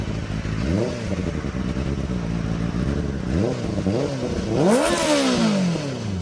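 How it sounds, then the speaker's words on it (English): A Benelli TNT 600i motorcycle engine revs repeatedly, rising and falling in pitch, with a sharp, loud rev near the end; a stock exhaust, close up, with no talking. "And now the sound. It's a stock exhaust."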